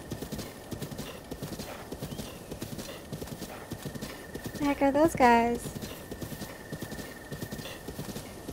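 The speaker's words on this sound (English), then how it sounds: "More horses?" In a Zelda video game, hooves clip-clop steadily while a horse lets out a loud, close whinny partway through; a person talks briefly over the trotting.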